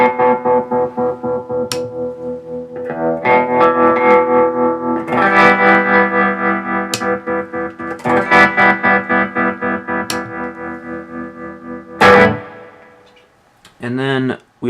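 Electric guitar chords through an Electro Harmonix Stereo Pulsar tremolo pedal, the volume pulsing in a smooth, steady wobble over sustained notes, with a few sharp ticks and a brief burst near the end.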